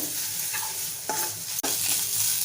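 A spoonful of Malvani masala is stirred into a spice paste over a steady sizzle, with a few close scraping strokes and a sharp clink of the spoon against the pan near the end, and no voices.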